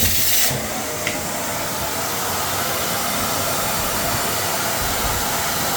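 A vacuum cleaner sucks up loose debris during end-of-tenancy sink and toilet cleaning, a loud constant motor roar that shifts briefly at the start, with a small click just after, then drones on steadily.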